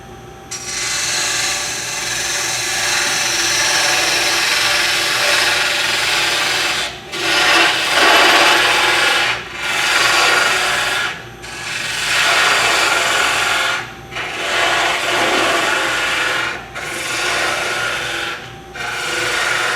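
A turning tool scrapes and cuts into spinning wood on a lathe while shaping a mushroom, a steady rasping hiss broken by several brief pauses.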